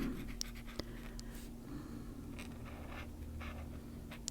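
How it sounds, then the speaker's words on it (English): A pencil colors on paper in steady, soft scratching strokes, close and fairly quiet, with brief sharper scrapes between passes. "but I'm going to do that with a pencil"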